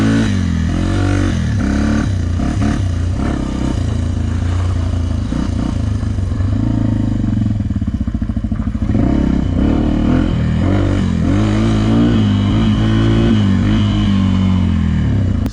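A Yamaha TTR 250 dirt bike engine revving under throttle, loud and close, the pitch rising and falling in repeated snappy surges over a constant rumbling idle.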